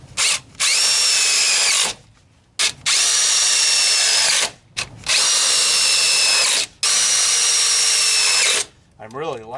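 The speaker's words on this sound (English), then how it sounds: "it's a number 8 1/2-inch stainless steel self-drilling screw" A power drill drives a number 8 half-inch stainless steel self-drilling screw in four long whirring runs separated by short pauses, loud and close, with a ratcheting clatter at the end.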